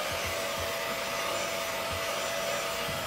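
Handheld hair dryer blowing steadily on a face to dry freshly spritzed setting spray, a close, continuous airy roar with a faint motor whine and no talking.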